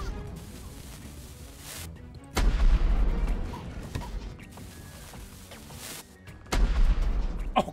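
Gunfire from shooting in the horror video game The Baby In Yellow, loud broadband bursts, two sharp heavy blasts standing out over a steady noisy game bed.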